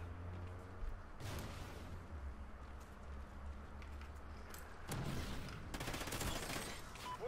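Gunfire in a first-person shooter game, with bursts of shots and sharp cracks standing out over a steady low rumble of game sound, the loudest volley coming near the end.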